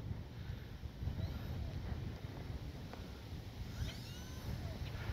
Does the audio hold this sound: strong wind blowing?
yes